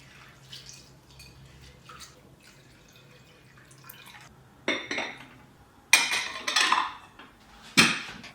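Barley being washed in a bowl of water in a home kitchen: soft splashing and dripping that give way to louder sloshes and clinks of the container, close up, with no talking.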